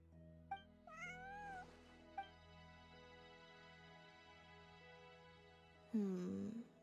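A cartoonish video game cat meows a few times, with short rising cries over a steady synthetic musical drone, then a louder, longer meow at the end.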